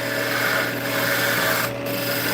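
A skew chisel cuts a pen blank spinning on a woodturning lathe, giving a loud, steady rasping hiss over the motor's hum, broken by one brief pause as the tool lifts off.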